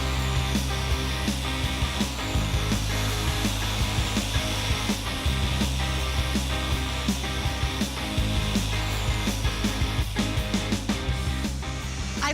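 Car paint on a Pontiac Firebird being machine-buffed with compound on a foam cutting pad, a steady whirring polisher hum with rubbing texture running continuously and close, no talking.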